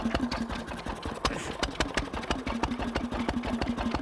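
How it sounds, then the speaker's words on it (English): A small steam engine driving a domestic water pump chuffs and clicks in a quick, steady rhythm of sharp regular beats over a low mechanical hum, close by. "The machine that the engine is driving at the moment is a small domestic water, it's a small domestic water pump."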